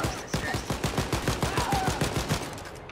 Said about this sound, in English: That's a lot of shots to the face